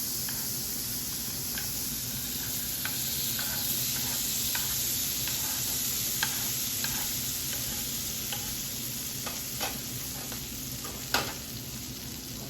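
An egg fries in a hole cut in a slice of bread, giving a steady, close sizzle with faint ticks and light scrapes of a utensil around the edges, and no talking.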